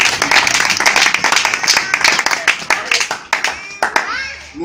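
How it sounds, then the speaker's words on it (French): Church congregation bursting into loud, dense clapping mixed with cheers and shouts, sustained for several seconds and tapering toward the end. "acclame très fort"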